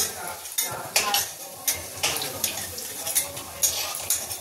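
Potato curry (aloo dum) cooking in a pan, a spoon scraping and clanking against the metal in steady irregular strokes over a soft background sizzle, close and moderately loud.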